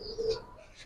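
Pigeons kept in a loft give a brief, soft cooing call, a single low throaty coo close by, faint and short.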